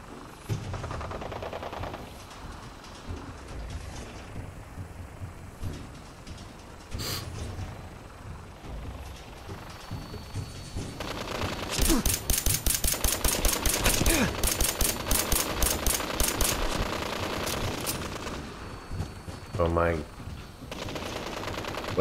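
Enemy fire of blue projectiles in a post-apocalyptic video game, heard as rapid bursts of crackling shots in fast rhythmic volleys, loud and repeated over several seconds, with a player talking at times.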